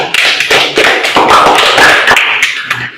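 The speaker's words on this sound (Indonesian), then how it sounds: "Mari kita berikan aplaus kepada pembicara satu dari tim afirmasi" Audience clapping for a speaker at a school group debate, a loud, dense burst of applause that sustains for a few seconds and thins out toward the end.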